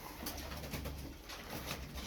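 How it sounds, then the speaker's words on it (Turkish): A group of about ten pigeons coo softly and faintly, low murmuring calls repeating under a broad, steady background hiss. "Bakın size böyle 10 parça kuş getirdim"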